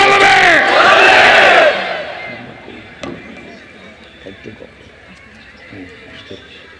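A large crowd at an Islamic sermon gathering chants "we want the Prophet" loudly in unison for under two seconds, then drops to a low murmur with scattered knocks and rustles.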